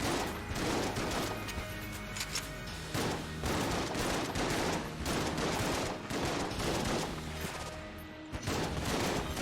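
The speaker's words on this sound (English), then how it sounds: "what I do like about these shotguns is that they're shotguns with decent range" Shotgun fire in the video game Enter the Gungeon, with dense, rapid repeated blasts and mechanical clatter forming a loud continuous barrage throughout.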